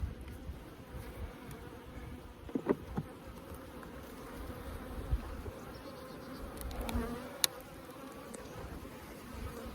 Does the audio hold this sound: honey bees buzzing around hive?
yes